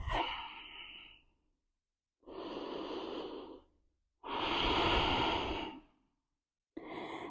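Slow, deep breaths during a yoga flow, three long audible exhales with quiet pauses between and a fourth starting, close and soft with no talking.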